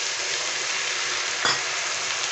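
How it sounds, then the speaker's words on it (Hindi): Ground tomato paste hits frying masala in hot oil, a loud continuous sizzle with a brief stirring scrape midway, close and without talk. "इसमें देखिए दो दो टमाटो जो पीस के रखे थे उसको मैं इसमें डाल देती हूँ।"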